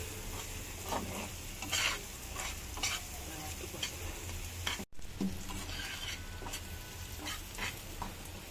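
Spices frying in a little oil in a pan with steady stirring, a continuous close sizzle broken by scraping strokes of the spoon, with a brief drop near the middle before it resumes.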